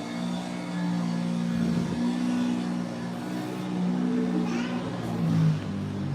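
Simulated car engine revving on an Epcot desert racing ride, a steady loud mid-pitched drone with rising and falling revs throughout, no talk.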